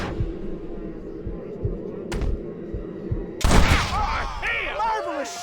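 Gunfire in the western video game Red Dead Redemption: a short sharp report, then a louder blast, over a low ambient hum, followed by a voice talking.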